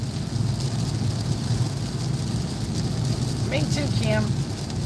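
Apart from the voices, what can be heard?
heavy downpour of rain heard while driving home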